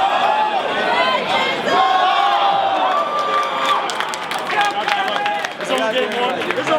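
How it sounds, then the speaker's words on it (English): A large crowd at an Apex Legends esports tournament cheers and shouts steadily throughout, loud and continuous, with voices talking within the din. "people cheering for who they love"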